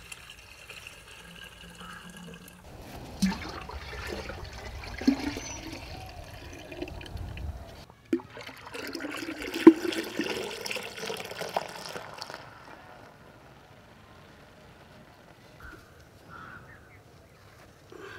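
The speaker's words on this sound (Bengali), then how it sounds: "বেশ কয়েকটা গাছ থেকে সংগ্রহ করা রস এনে কয়েকটি কলসিতে ঢেলে রাখা" Date palm juice gathered from several trees is poured into clay pots outdoors, a splashing, trickling pour in bursts that rises and fades, with occasional clinks and birds calling faintly in the background.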